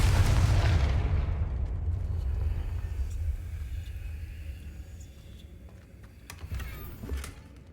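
A fiery Confringo spell explodes in Hogwarts Legacy, a loud deep blast that rumbles and fades over several seconds, with a few small impacts afterward.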